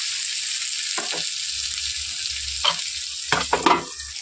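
Onion, tomato and ground spices fry in a pan for a mushroom curry, giving a steady close sizzle broken by several short scraping stirs, with a low hum underneath.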